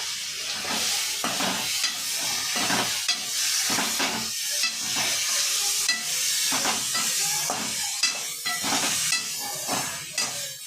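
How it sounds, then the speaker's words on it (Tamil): Oyster mushrooms sizzle and hiss in a hot pan on low heat while stirred, with intermittent scraping strokes over a steady frying crackle. "சிம்மில் வச்சு சிப்பி காளான் போட்டு நல்லா வணக்குங்க."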